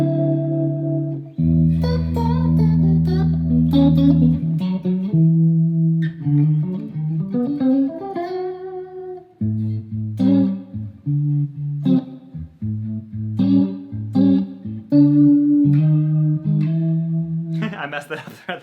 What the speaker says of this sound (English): the rotary sounds in here are just so much fun